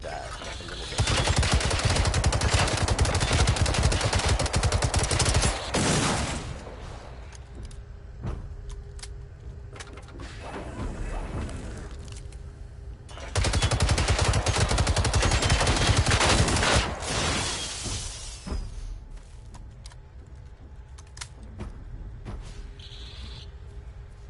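Bursts of AG5 rifle fire in the video game Generation Zero, loud and dense, coming in two long sustained volleys separated by quieter stretches of ambient game noise.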